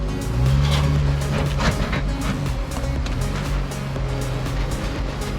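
A Jeep Gladiator Rubicon crawls over a rocky off-road trail with a steady low engine drone, a wavering whine and scattered thuds and scrapes of rock against the underbody.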